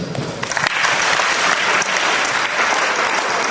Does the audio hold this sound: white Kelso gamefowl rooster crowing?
no